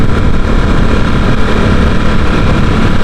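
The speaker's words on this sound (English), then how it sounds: "And the engine, honestly, the V-twin, absolutely beautiful. Beautiful sound, beautiful torque." A loud Ducati Supersport S V-twin motorcycle engine roars continuously at close range, a dense throbbing rumble with no pauses.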